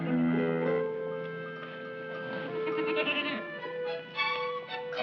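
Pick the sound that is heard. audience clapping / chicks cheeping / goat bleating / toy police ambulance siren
goat bleating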